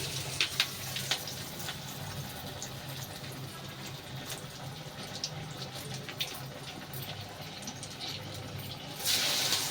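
Lentil vadas (garelu) frying in hot oil over medium heat, a steady close bubbling sizzle with crackles throughout, swelling slightly louder at the end.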